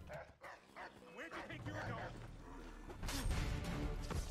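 A dog yips and barks repeatedly in Assassin's Creed III gameplay, mixed with busy in-game noise and crashes, under someone talking.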